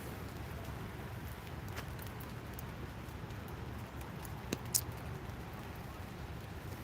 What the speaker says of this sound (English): it is raining just a bit out here